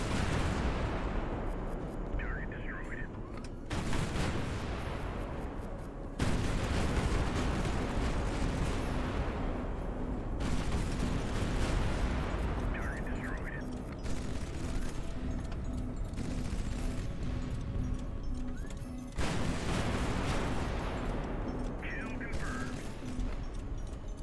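Ship guns firing and shells exploding in a naval battle from the game High Fleet, heavy bursts and rumbling volleys that keep going throughout, with a steady engine drone underneath and no talking.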